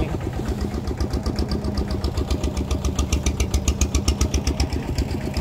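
A vehicle engine runs steadily while riding on a rice farm, with a fast, even chugging pulse and a rattling exhaust note that stays loud and close the whole time.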